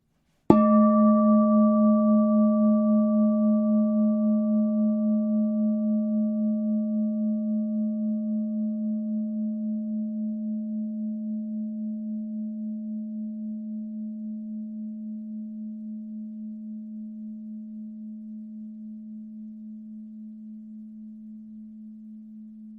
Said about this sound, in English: Hear the sound of the bowl now.